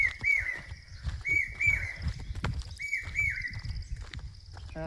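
Birds chirp outdoors in short repeated bursts along a hillside path, clear and fairly near, over low rumbling and footsteps.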